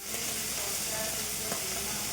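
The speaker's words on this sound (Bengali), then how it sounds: "যে মাছ ভেজে নিচ্ছি" Fish pieces frying in a hot pan in a home kitchen, giving off a continuous, even sizzle with faint crackles and pops, close by and with no voices.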